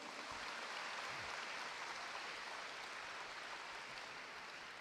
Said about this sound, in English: Let's have a round of applause for all our heroes.